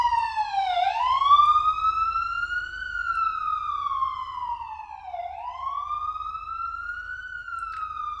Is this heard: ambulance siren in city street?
yes